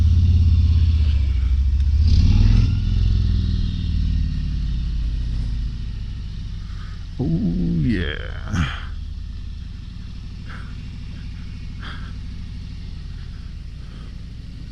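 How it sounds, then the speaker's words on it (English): A 2023 Harley-Davidson Road Glide Special engine rumbles nearby with a deep, throaty exhaust note, revving up briefly early on, then idling; a voice speaks briefly. "Such a great sound to this bike."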